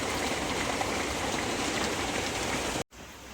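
Heavy rain pours steadily over a waterlogged farm field in the afternoon, a dense, even hiss close by that cuts out briefly near the end.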